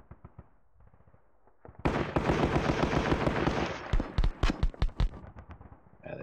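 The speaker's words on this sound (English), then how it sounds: "It's kind of like pop, pop of a couple of rifle shots." Sharp pops of partisan rifle shots in the Sealion '40 wargame, a few scattered cracks followed by a dense loud burst of gunfire and then more isolated sharp shots.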